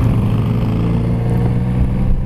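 A Triumph Rocket 3 motorcycle rides along at a demo day, its engine a loud, steady low drone with faint rattling on top, heard close and continuous without talk.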